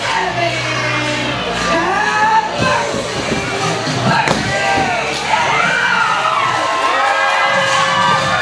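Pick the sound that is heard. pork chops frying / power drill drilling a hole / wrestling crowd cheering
wrestling crowd cheering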